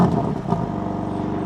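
A twin-turbo 2026 BMW M2 with quad-tip dual exhaust idles after a remote start from the key fob, a steady low engine rumble heard alone without talk.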